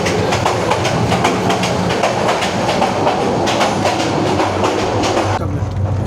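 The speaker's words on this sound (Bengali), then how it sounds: "দেখছেন কি স্পিডে চলতেছে ট্রেন।" A fast passenger train running from Cox's Bazar to Dhaka rattles loudly with a steady clickety-clack of wheels over rail joints, heard from inside a carriage, continuous and close, with a faint voice briefly underneath.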